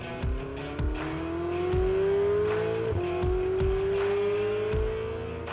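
A Ferrari Amalfi's 3.9-litre twin-turbocharged V8 revs and climbs through the gears, holding a rising drone that dips at a shift, with rhythmic thuds and swells beneath it, loud and close.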